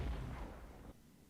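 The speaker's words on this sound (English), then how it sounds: "So I'm dropping artillery." Artillery fire in the Armored Brigade war game strikes T-55 tanks and infantry, a single low, muffled boom that rumbles briefly and then cuts off into a quiet tail.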